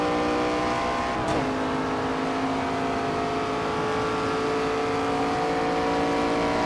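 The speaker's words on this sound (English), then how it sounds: "I still love the way it sounds when you go over them" Race car driving over rumble strips in the NASCAR 25 video game, a steady loud engine drone with a constant buzzing rumble throughout and a brief sharp transient early on, with no talking.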